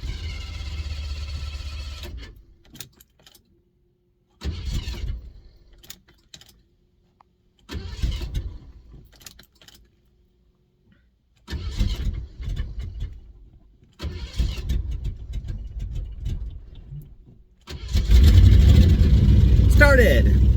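A 1986 Mercury Grand Marquis wagon that has sat for weeks cranks in repeated bursts separated by pauses, then catches and settles into a loud, steady idle close by; no one speaks.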